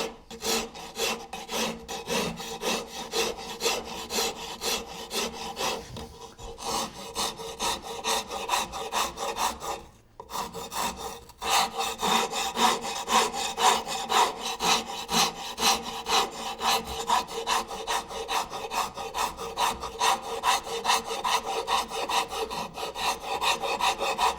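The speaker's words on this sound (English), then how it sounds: "I'm switching to a larger rasp" A large wood rasp files and shapes a wooden garden-tower finial into a rounded form, giving steady, close, rhythmic rasping strokes that run almost continuously with one brief pause.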